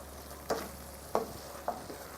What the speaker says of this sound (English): Just stir it into the masala mixture